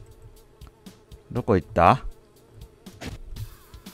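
A housefly buzzes loudly in Fly Simulator, a game set in a pizza shop: two close buzzing bursts with rising and falling pitch, then a fainter buzz, while someone speaks Japanese.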